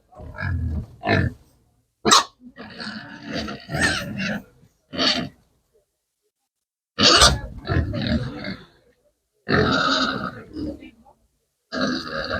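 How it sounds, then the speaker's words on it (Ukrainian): Big pigs grunt loudly and close by in repeated rough bursts separated by short pauses, some deep and burp-like. "Ні, ну гарні це великі свині."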